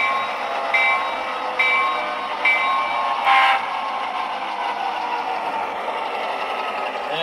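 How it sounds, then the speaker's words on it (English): A model train rolls along a layout track with a steady whirring motor hum, punctuated by a few brief horn-like tones early on, close and moderately quiet. "Now arriving on track number one, train number"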